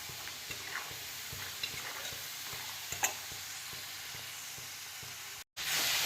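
Potatoes fry in a pan over a high gas flame, giving a steady close sizzle dotted with light clicks from stirring. No one speaks, and the sound cuts out briefly near the end.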